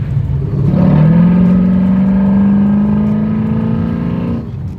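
A BMW E93 M3 engine fitted with velocity stacks and its intake plenum deleted roars loudly and close, its revs rising in one long sustained climb before easing off near the end.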